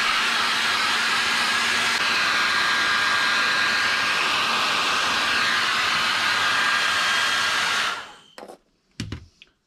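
A heat gun warming a vinyl chassis-protector sticker on an Arrma Kraton 6S EXB V4 RC car blows with a steady, loud airy roar for about eight seconds, then cuts off, followed by a few light handling clicks.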